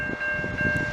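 A commuter or freight train passing near McMasterville, heard as a brief, steady rumble with faint rail clatter and a high steady tone over it.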